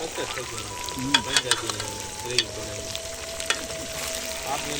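Brinjals and onion fry in an outdoor farm setting, with a steady background sizzle and a few sharp clinks of a utensil, while voices talk over the cooking.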